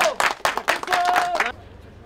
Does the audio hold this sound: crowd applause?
yes